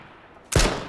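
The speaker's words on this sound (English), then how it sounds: "He's shooting at someone?" A single sharp burst of gunfire in the video game H1Z1 cracks loudly after a quiet, low-level background, ringing out briefly to the end.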